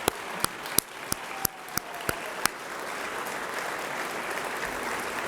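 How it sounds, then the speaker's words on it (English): A press conference audience at Utah Valley University begins with a handful of sharp, separate claps that soon merge into a softer, continuous patter of applause, moderately distant in the room. "let's just give DoTerra a round of applause for making it here today"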